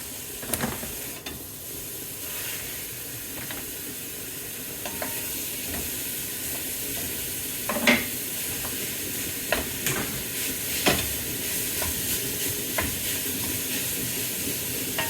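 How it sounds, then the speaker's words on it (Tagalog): Mince browning in a pan for chili con carne, a steady loud sizzle with occasional scraping stirs and small pops throughout. "Pa-brown lang natin itong mince natin."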